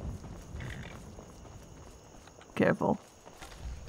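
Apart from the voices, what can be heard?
horses' hooves clip-clopping, from the video game Skyrim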